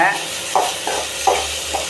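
Onion, green chili and chopped tomato sautéing in a pan for egg podimas, with soft sizzling and a few stirring scrapes repeating about every half second, close and moderately loud.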